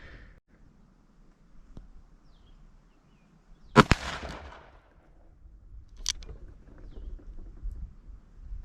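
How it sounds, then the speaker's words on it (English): A single sharp, loud report from a Smith & Wesson revolver firing a Federal 158 grain jacketed soft point round, then a quieter echo and a fainter later bang, amid low outdoor background noise. "I'm going to shoot the Smith and Wesson first at the target on the right"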